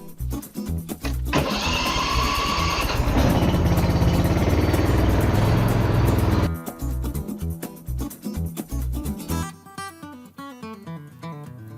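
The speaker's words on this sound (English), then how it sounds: "I'll get the zero-turn gassed up and get the spreader on it" Zero-turn lawn mower engine running close by, a loud steady mechanical roar of about five seconds between stretches of rhythmic clattering and knocking, with no talk.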